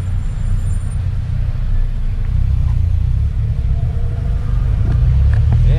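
Cars idle and creep in a traffic jam in Saudi Arabia, a loud continuous low rumble of engines heard from inside a vehicle, steady throughout with faint higher noises and no talk.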